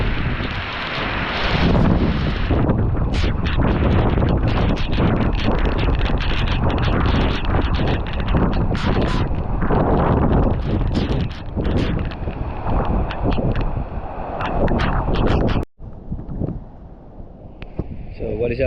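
Strong wind roars and buffets the microphone at a seaside cliff campsite during heavy rain, loud and gusty throughout, with a brief dropout near the end before the wind picks back up more quietly.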